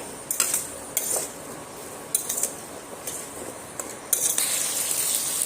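Potatoes being stirred with fried onions in a pan for an aloo dal bora dish, a metal utensil clinking and scraping against the pan in irregular taps over a soft background hiss.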